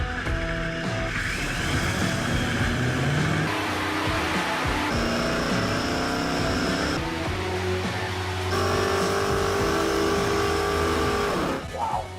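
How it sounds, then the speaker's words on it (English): A supercharged race engine for the Big Red Camaro, built for El Mirage, revs hard on a dyno with a loud, sustained roar and whine that climbs in pitch through the pull before cutting off. "we're dynoing our supercharged motor for El Mirage that we're planning on running this year"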